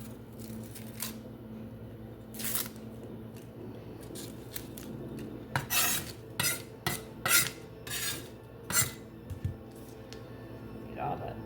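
Papery onion skins being peeled off by hand, with crisp snips, rasps and crackles in scattered bursts, close and moderately loud, clustering densely toward the middle while a voice talks faintly underneath.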